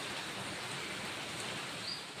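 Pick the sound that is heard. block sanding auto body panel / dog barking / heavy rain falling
heavy rain falling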